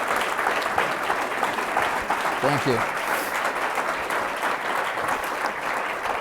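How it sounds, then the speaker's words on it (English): An audience applauds steadily throughout at a political happy hour event, a dense, even wash of clapping with a brief spoken thanks partway through. "let's give him a round of applause as we bring those on."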